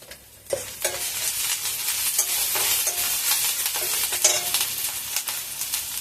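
Ginger garlic paste, turmeric and chili powder stirred in a hot pan with oil for potato curry, giving a steady close sizzle with scraping spoon strokes throughout, no voices.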